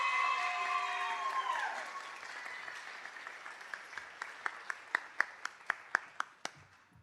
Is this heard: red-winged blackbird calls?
no